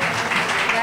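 An audience at a magazine presentation in a restaurant bar applauds with a steady, dense wash of clapping throughout the brief moment.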